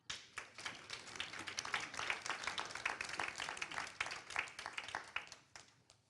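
An audience at the Montpellier Business School applauds as its director Bruno Ducasse is welcomed, with dense, lively clapping swelling quickly, holding for several seconds, then thinning out at the end.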